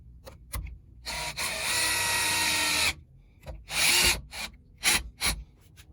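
A power drill drives screws while installing a Reliabilt door handle and deadbolt, two sustained whirring runs with short bursts and knocks between them, close up and free of speech.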